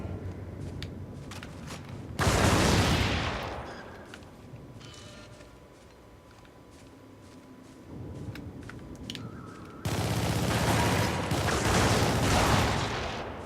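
Video game machine-gun fire in two loud sustained bursts, separated by a quieter stretch with faint clicks and shuffling; no talk.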